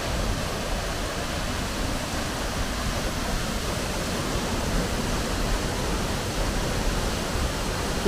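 Steady, dense roar of falling water, broadband and unbroken throughout: Šum waterfall in Vintgar Gorge near Bled, Slovenia's highest river waterfall, heard from close by.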